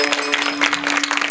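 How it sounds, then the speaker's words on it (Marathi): An audience at a Marathi kirtan claps loudly for a short burst, a close, vigorous patter of many hands with a steady tone underneath. "बाबांसाठी एकदा जोरदार टाळी होती."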